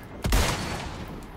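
A single loud rifle shot in the Resident Evil 4 Remake video game, with a sharp crack and a booming tail that fades out.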